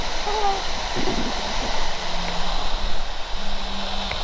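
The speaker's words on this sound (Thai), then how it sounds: "นี่น้ำตก" A steady broad rush of falling water fills the scene at the Ramayana water park, continuous and fairly loud with faint background noise and no clear talk.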